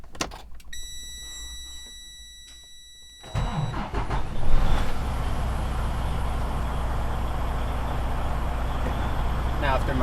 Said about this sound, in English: Now I can safe start my vehicle.